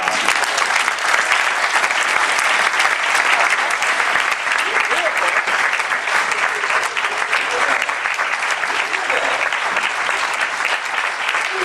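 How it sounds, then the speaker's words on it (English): A room of listeners applauds after a speaker introduction at an education event, sustained dense clapping throughout with a busy crowd texture and some voices mixed in. "Please give a round of applause for Dr. Rabowski."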